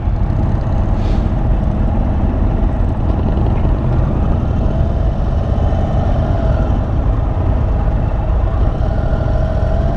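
An Indian Chief motorcycle's engine rumbles loud and close in a steady, unbroken drone as the bike sets off at a demo day ride, with no voices over it.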